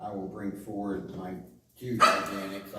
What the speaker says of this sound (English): Pardon my dogs, they're down here barking.